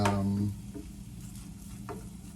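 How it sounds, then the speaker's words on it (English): Cured turkey bacon crisping in a pan, a soft steady sizzle with a brief tonal hum at the start and occasional faint stirring taps, fairly quiet and without talk. "Okay, the bacon is crisping up."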